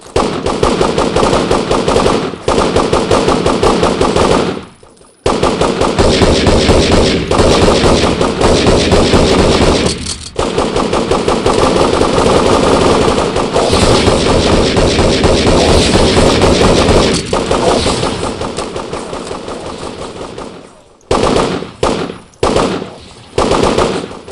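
Sustained video game gunfire rattles almost nonstop as loud automatic bursts, with a few brief pauses and short choppy volleys near the end.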